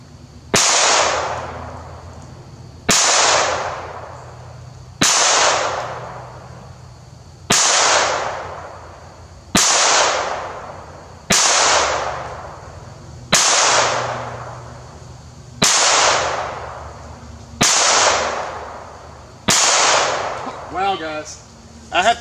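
A Ruger MKIII 22/45 Slab Side .22 pistol firing cheap ammunition outdoors, ten evenly spaced sharp cracks about two seconds apart, each loud and close with a short decaying tail.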